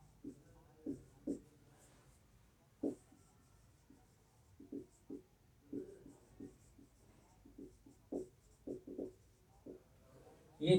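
Chalk or marker strokes on a classroom board as a sentence is written, heard as a series of short, separate scratchy taps and squeaks with pauses between words, fairly close and moderately quiet, with no speech over it.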